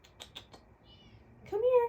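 A pet cat lets out a clear, drawn-out meow close by at the end, after a few faint tapping clicks, while a person speaks softly to it.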